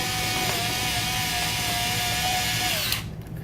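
A power drill drives screws through a door deadbolt, one steady whirring run up close that stops abruptly near the end.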